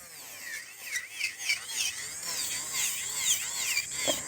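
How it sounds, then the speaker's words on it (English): An electric nail file works over a gel nail, its thin whine sweeping up and down in pitch as the bit presses and lifts, close and moderately quiet. "So I will just quickly file this one, and this way we will be able to test it"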